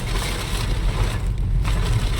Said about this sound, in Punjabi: ਮੀਂਹ ਤੂਫਾਨ ਤੂਫਾਨ ਜਾਈ ਬਹੁਤ ਤਕੜਾ ਦਾ